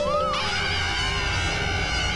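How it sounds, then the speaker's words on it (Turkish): Buzzing of bees drawn to honey syrup, a steady insect drone with a high wavering whine that holds through the short stretch, close and fairly loud with no talk. "Bu arılar kesinlikle bal şurubuna ilgi duyuyor."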